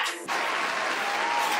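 Applause for the winner of a one-bite seafood boil mukbang challenge rises abruptly after a brief pause and holds as an even, hissing burst of clapping.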